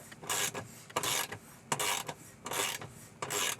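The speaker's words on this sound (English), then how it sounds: "So I'm cranking it down just like a regular bolt, nice and snug, but not trying to snap the bolt." A nut is cranked down on a bolt fixing a console table bracket under a seat base, heard as faint, repeated ratcheting rasps in short bursts of about half a second each, with no voices.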